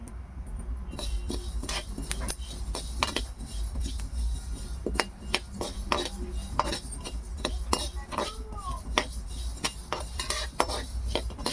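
Mixed seeds dry roasted in a pan without ghee or oil for energy ladoos, stirred with a metal spoon that gives steady clinks and scrapes against the pan, close and fairly loud, with no speech.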